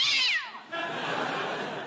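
A cat lets out a sharp, loud meow that bends downward and is cut off abruptly as a cricket ball strikes it, followed by a brief rumbling, scuffling tail of comic radio sound effects.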